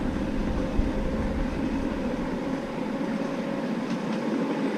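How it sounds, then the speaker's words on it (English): A live steam miniature locomotive running on a track, a steady close rumbling chuff and rolling noise that holds even throughout, with no voices. "It's working well, your locomotive."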